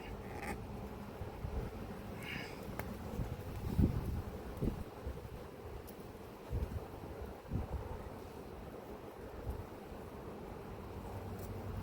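Wind gusting outdoors at a beehive apiary, a low rumbling buffet on the microphone with faint creaks and rustles throughout, fairly quiet and steady with no speech.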